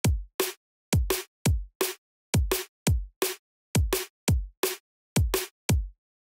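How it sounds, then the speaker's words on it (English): A drum and bass beat of kick and snare repeats in a tight syncopated pattern, punchy low kicks alternating with sharp snare hits, dry and isolated with silent gaps between hits. "a lot of tracks have a very similar basis for the kick and snare,"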